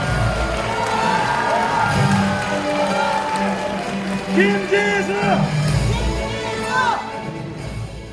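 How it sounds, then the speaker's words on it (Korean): Crowd at a Democratic Party regional members' convention and leadership candidates' joint speech event in Chungbuk cheers and shouts for candidate Kim Ji-su, a loud, sustained mass of whoops and yells with a chanted name rising over it. "뜨거운 박수로 맞아주시기 바랍니다"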